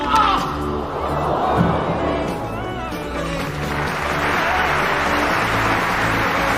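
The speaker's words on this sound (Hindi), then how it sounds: "ये देखकर सारे दर्शक उस खिलाड़ी के लिए तालियां बजाना शुरू कर देते हैं।" Stadium spectators at a sports match clap and cheer for a player, a dense steady wash of applause and crowd noise over a low rumble of background sound.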